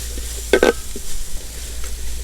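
Onions sizzle softly in a pan while turmeric powder is stirred in, with a few close scraping and clinking stir sounds over the quiet frying.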